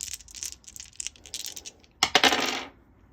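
A small four-sided D4 die tumbles onto a surface, giving a few light scattered clicks and then a brighter, louder rattle as it settles, with no talking.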